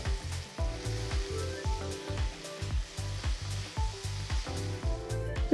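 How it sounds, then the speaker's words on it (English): Onions, chilies, curry leaves and chopped tomatoes saute in a pan for puffed rice upma, a soft steady sizzle with rhythmic low bumping from stirring throughout, no voices. "add 2 medium-sized tomatoes chopped and saute well"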